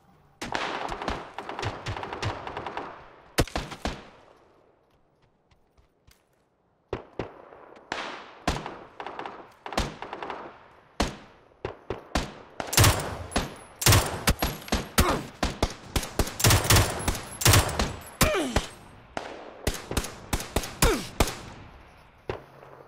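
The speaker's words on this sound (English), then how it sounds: "There's like a million people shooting" Heavy gunfire in PUBG: dense bursts of loud, sharp shots and rapid automatic fire, broken by a brief lull, then resuming in close, crowded volleys.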